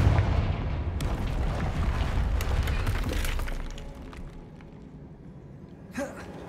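A Confringo blasting spell detonates in Hogwarts Legacy, a loud crackling blast with a rumbling, shattering tail that fades into quieter debris and a brief late burst.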